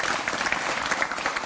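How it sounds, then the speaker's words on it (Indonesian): A studio audience at an Indonesian evening talk show claps, giving a dense, steady wash of applause that fills the whole short stretch at moderate volume, with no voices over it. "Oke, tepuk tangan untuk semua narasumber saya pada malam hari ini."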